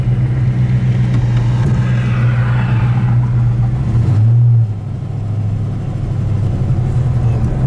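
A 1958 Studebaker Silver Hawk engine drones steadily while driving, a loud low rumble that rises in pitch, dips briefly around a gear shift, then settles back into a steady hum from inside the car.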